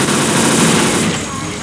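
Rapid automatic gunfire from a deathmatch in Unreal Tournament 2004 with ballistic weapons, a dense continuous rattle of loud shots that tapers slightly toward the end.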